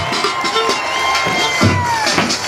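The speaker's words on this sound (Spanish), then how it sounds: "Un aplauso, por favor." Carnival crowd at a Barranquilla drum night cheering and whooping, a dense, noisy mass of voices with shouts rising above it, close and steady throughout.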